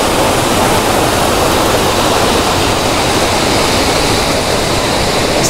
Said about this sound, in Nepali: हामी चाहिँ ठ्याक्क मेन झर्नामा आइपुग्यौँ होइन तपाईँहरूले देख्न सक्नुहुन्छ यहाँको चाहिँ मेन झर्ना भनेको यस्तो रहेछ